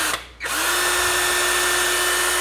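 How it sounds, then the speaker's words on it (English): A power drill fitted with a polishing bonnet buffs a scratched glass smooth-top cooktop: after a brief pause the motor spins up and holds a steady, loud, close whine to the end. "And we're going to put it in the drill."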